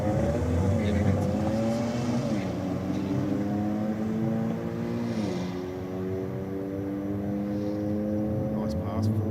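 Grey Audi race car making a drag strip pass at Sydney Dragway, a loud steady engine drone with rising and falling harmonic tones as it runs down the strip, heard under constant crowd and announcer talk.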